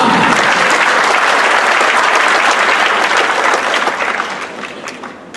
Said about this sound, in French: Mesdames et messieurs, sous vos applaudissements, le chœur du monastère de Kermoussa.